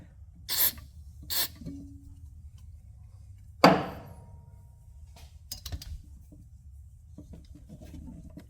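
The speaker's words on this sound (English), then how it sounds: "we're going to spray that with the silicone spray" Short hissing bursts of silicone aerosol spray, two quick blasts close by into a Porsche 911 fender well, followed by a sharp clack and faint handling noises.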